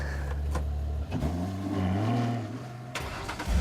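A Ferrari FF moves off nearby, its engine rising and settling through a steady low rumble with a brief mechanical clunk partway, no voices over it.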